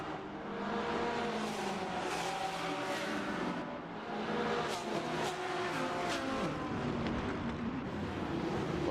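GT3 race cars at Long Beach in a racing video game: engines roar and rev continuously as the pack pulls away from a green-flag start, layered and fairly loud with shifting pitch and no talking.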